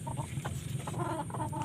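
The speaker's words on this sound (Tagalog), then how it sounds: "alagang manok." Soft clucking from chickens, a few short murmuring calls over a steady low background hum, close by.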